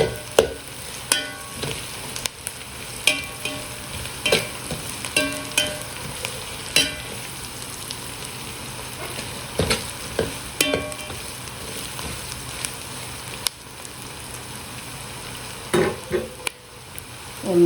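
Chili powder fries in hot oil in a pan for a Madurai-style fish kuzhambu, a constant close sizzle with regular clacks and scrapes of a spoon stirring against the pan.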